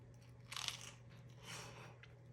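Two crisp crunching bites into a baked Hawaiian roll pizza snack, each followed by brief chewing, close and fairly quiet over a low steady hum.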